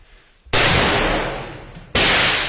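Two loud, close rifle gunshots fired on command, each a sharp blast with a long decaying roar, the second about one and a half seconds after the first.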